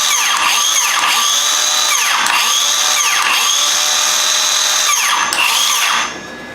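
A Milwaukee M18 CCS55 6.5-inch cordless circular saw, its battery chilled to -25°C in a freezer, runs loud and close with a steady high whine, rising and falling in repeated surges, then cuts off near the end.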